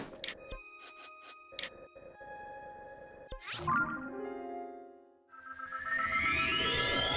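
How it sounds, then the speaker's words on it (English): A phone ringtone plays a melodic electronic tune with tonal beeps and sweeping notes, fairly clear and steady, with no voices. "My dad's ringtone for some reason."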